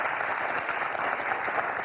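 A game-show studio audience claps in a dense, even burst of applause that holds steady at full strength from start to finish, close and loud, with no voices above it.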